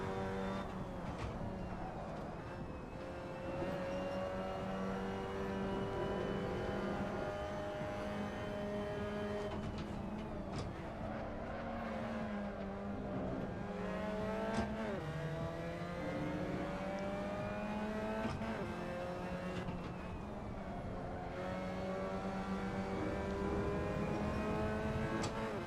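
Race cars in the sim racing game Assetto Corsa, engines droning and rising in pitch through gear changes as cars run close together and overtake, a continuous revving whine throughout.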